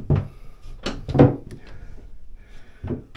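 The tight shower door on a Bali 4.2 catamaran gives several sharp knocks and thuds at close range, spaced irregularly with quiet gaps between them.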